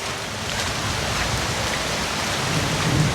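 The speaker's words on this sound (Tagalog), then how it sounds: "Baka po rin abutan kami ng ulan." Steady, heavy rain pours down outdoors, a dense continuous hiss that fills the whole stretch with no voices.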